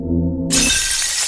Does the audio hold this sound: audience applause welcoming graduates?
no